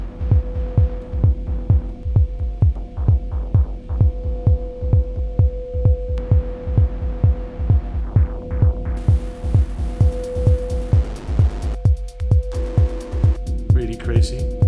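A distorted techno drone built with Max for Live devices: a pulsing low throb with a steady hum, beating in a fast regular rhythm, loud and continuous, with brighter noisy layers coming in partway through.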